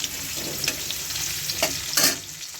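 Chopped onion fries in hot oil with a dense, steady sizzle. Occasional stirring scrapes and sharper crackles come through, close and fairly loud, with no voices.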